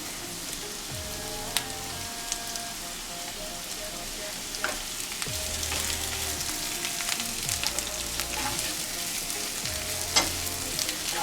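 Salami slices fry in a pan for a plantain and egg frittata, giving a steady close sizzle and crackle with occasional scraping from stirring.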